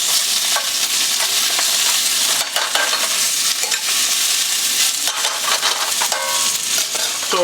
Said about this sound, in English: So we sauteed the garlic nice and gently.